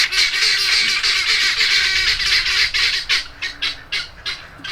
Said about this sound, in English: And these birds are going crazy here right now.